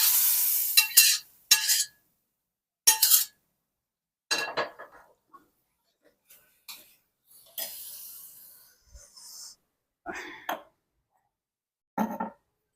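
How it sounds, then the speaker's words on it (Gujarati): Peas are tipped into a pan of spices and stirred while making ragda, giving a series of short, close scraping and clinking spoon-on-pan sounds, spaced irregularly between quiet gaps, with a faint sizzle. "હવે આપણે આમાં વટાણા બધા જ નાખી દઈશું."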